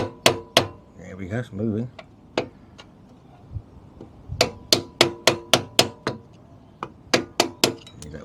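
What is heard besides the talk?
tapping through with an old screwdriver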